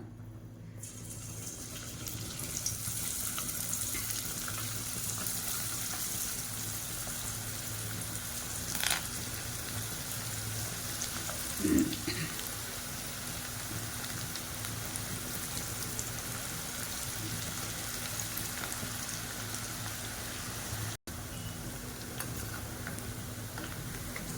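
Chicken peanut pakoda deep-fries in hot oil with a continuous, even sizzling hiss. It stays close and fairly quiet, broken only by a couple of faint bumps and a brief dropout near the end.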